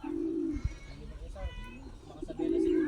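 A young racing pigeon at the loft gives a few deep throaty coos, the first and last longest and loudest, over a murmur of background voices.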